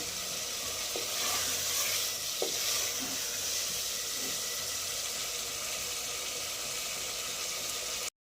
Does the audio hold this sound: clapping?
no